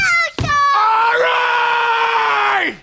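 A voice imitates a sudden, drawn-out scream in the manner of an Adam Sandler film character, preceded by a brief strained cry, loud and close with a long sustained wail that cuts off abruptly.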